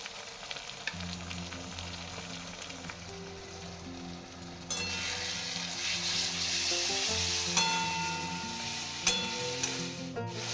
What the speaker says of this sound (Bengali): সব কিছু একসঙ্গে এবার আমি কষে নিচ্ছি